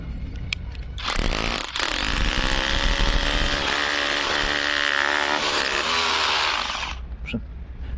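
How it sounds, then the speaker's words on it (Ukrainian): Ronix 8910K 20V brushless cordless rotary hammer drilling into red brick with an 8 mm bit, a loud, close, continuous hammering whine that lasts about six seconds and then stops. "Ронікс, бур 8 мм, червона цегла."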